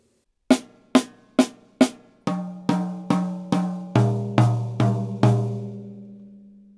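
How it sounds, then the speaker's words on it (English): A drum kit paradiddle fill played alone, struck hits moving from snare down to toms: four sharp, higher snare strokes, then a run of deeper ringing tom hits with lower booming tones, each decaying before the next. "to play again the paradiddle with the left hand, and I could move to the snare drum or to the reck tom again"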